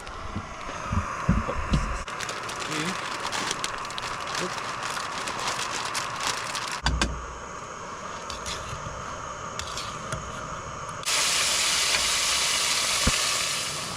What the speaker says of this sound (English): got water boiling here